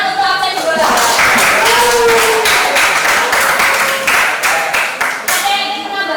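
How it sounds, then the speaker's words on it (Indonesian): A classroom of students applauding a classmate, a dense burst of many hands clapping at close range that fades slightly toward the end, with some murmured voices underneath. "tepuk tangan untuk absen 2"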